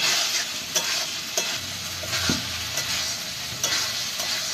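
Jackfruit and katla fish masala with sour yogurt is stir-fried in a pan: a continuous sizzle runs throughout, broken by periodic sharp scrapes and knocks of the spatula.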